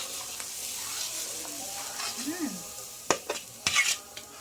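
Yogurt and a ground paste of cumin and dried and green chilies go into a hot pan, producing a soft sizzle with scraping stirs and a few sharp clinks of a spoon against the pan.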